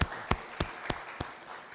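A short run of evenly spaced claps at a briefing session, about six sharp, faint hits at a steady beat in a quiet room.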